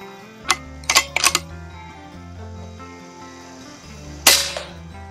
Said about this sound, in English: we're ready to go with the first shot across the chronograph